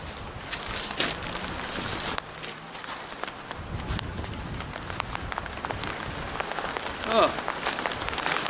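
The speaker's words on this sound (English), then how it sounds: "Here comes the rain again." Steady rain patters down continuously outdoors, a dense hiss of drops with occasional louder splashes.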